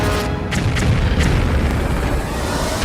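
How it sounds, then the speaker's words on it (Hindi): A 2000-pound bomb explosion produces a sustained, loud low-frequency roar, a dense rumbling boom that fills the whole stretch with a few sharper cracks near the start. "जब ये बम गिरता है तो ऐसा धमाका होता है जो"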